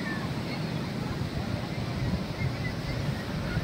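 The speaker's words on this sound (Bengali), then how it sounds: "নিশ্চয়ই জলের শব্দ দেখা যাচ্ছে, আর এদিকে হচ্ছে সমুদ্র, বে অফ বেঙ্গল।" Sea waves roll onto Puri beach on the Bay of Bengal, a steady broad wash of surf and wind with no clear breaks, loud and continuous throughout.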